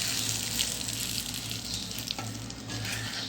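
Papaya stir-fry with mustard seeds sizzles steadily in a pan while being stirred, with a few sharper scrapes and pops over the continuous frying hiss; no talking.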